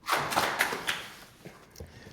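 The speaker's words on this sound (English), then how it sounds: "Now's the part where you can applaud." A brief smattering of claps from a live podcast audience, a handful of separate hand claps over about a second that quickly thin out and fade.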